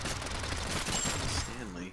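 Flintlock gunfire in the video game Totally Accurate Battle Simulator, a loud cluster of shots and blasts filling the short moment, with a voice speaking near the end.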